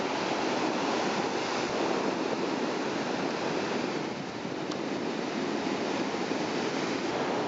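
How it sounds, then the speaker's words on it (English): Ocean waves crash onto rocks at a seashore, a constant roaring wash of surf with some wind noise, loud and unbroken throughout. "The waves are still crashing in over there. I like the way they hit the rocks."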